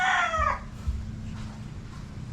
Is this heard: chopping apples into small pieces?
no